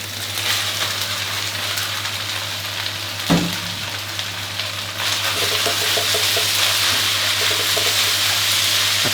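Fresh yakisoba noodles and pork stir-fry in a hot pan with a loud, continuous sizzle, a spatula knocking once, and the hiss swelling as the noodles go in and are tossed.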